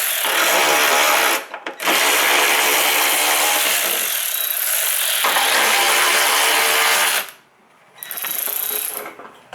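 Ratchet with a 10 millimeter socket loosening bolts during a Honda Ridgeline transmission fluid and filter change, rapid close clicking in two long bursts separated by short pauses, loud and without speech.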